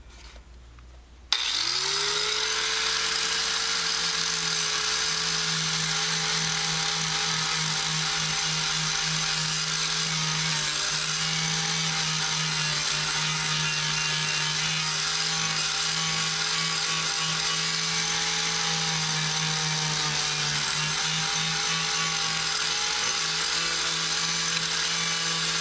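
Grinding wheel on an aluminum van side door panel spins up abruptly after a quiet moment, then holds a loud steady whine with a low drone for the rest of the clip.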